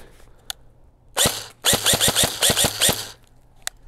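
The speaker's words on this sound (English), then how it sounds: "we're gonna start with some semi-auto shots" Semi-automatic gunshots fired at a block of ice: one sharp crack, then a rapid string of about seven evenly spaced, loud reports, with faint single pops before and after.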